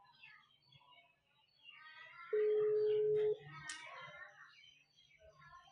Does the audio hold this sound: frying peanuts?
no